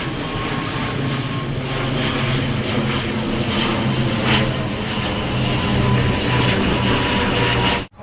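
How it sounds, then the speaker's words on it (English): A fixed-wing airplane coming in to land over Fermain Bay, Guernsey, passes close overhead as a loud, steady engine roar that holds for about eight seconds before cutting off abruptly. "we're right over where the planes come in, so you get to see almost some pilot's eyes from where we are"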